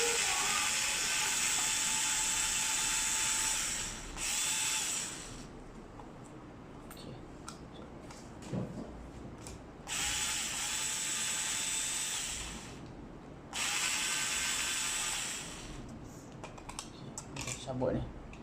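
An electric screwdriver removing the screws of a wall switch whirs in three loud bursts, each a few seconds long, with quieter gaps between them where a voice talks.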